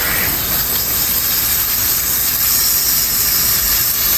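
Water pours steadily from a hose or tap while freshly harvested garden carrots are rinsed, a loud continuous hiss with no break and no talking.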